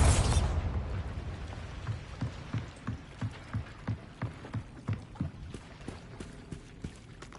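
A Bombarda spell explodes in Hogwarts Legacy: one loud boom that fades over about a second, followed by a steady run of rhythmic footsteps.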